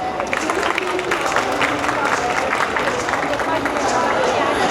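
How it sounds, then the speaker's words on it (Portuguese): A conference audience applauds to welcome the host of a climate-crisis panel, a dense, steady wash of clapping and crowd noise holding loud and even throughout. "Recebam com uma salva de palmas"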